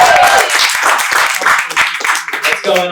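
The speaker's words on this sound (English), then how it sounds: "Guys, get the round of applause going" A comedy club audience at a live late-night show gives a round of applause, dense steady clapping with a few cheers throughout, close and fairly loud.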